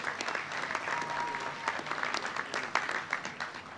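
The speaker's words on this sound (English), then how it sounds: "Let's give Amy a round of applause as well at that level." An audience at a veterans memorial and museum opening ceremony gives a sustained round of applause, a dense, lively mass of many hands clapping that swells slightly toward the end.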